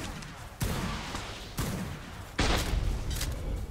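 Three heavy, booming turret volleys in the game Ark, each a sudden broadband blast sustained with a rumbling tail, the last the loudest, firing in quick succession during an online raid on a tree base.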